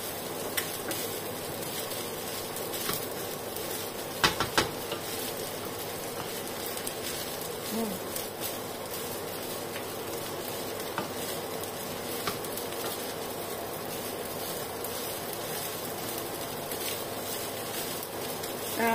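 Fried rice with onion leaves being stir-fried in a pan, a steady, even sizzle with soft scraping and clinks of a spatula running throughout, with one brief sharper knock midway.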